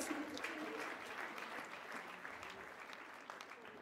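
Church congregation clapping steadily throughout, a dense, continuous wash of applause at moderate distance with no pauses, during a choir thanksgiving service.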